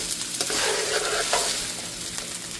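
Hash browns fry in a hot pan with a steady, close crackling sizzle and a few stirring scrapes, and no voices.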